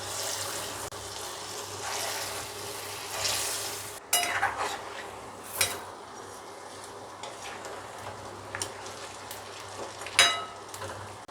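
Moong dal fritters frying in hot oil give a continuous bubbling sizzle, loud and close, with occasional clatters and scrapes as batches are lifted out and new ones added.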